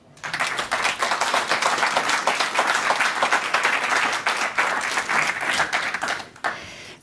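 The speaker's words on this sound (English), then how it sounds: "So again, could we give them a big warm applause?" Loud, sustained audience applause for a panel taking the stage at a conference about Swedish innovation, a dense crowd clapping steadily for about six seconds before fading to a few trailing claps.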